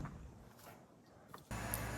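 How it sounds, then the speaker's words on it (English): An air conditioning unit runs about ten feet away as a steady broadband hum, quieter at first and then jumping louder partway through, with no talk over it. "There's an AC unit like 10 feet behind the camera"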